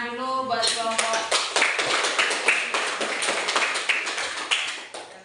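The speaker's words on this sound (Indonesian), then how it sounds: "tepuk tangan dulu buat kelompok" Classroom applause for a group of students who just presented, a dense burst of clapping by many hands that slowly thins out, over a teacher's voice at the start.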